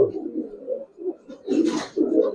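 A khaki male Giribaz pigeon with long feathers coos in low, throaty bursts, close by, with short pauses between calls and a brief flutter or rustle in the middle, no speech.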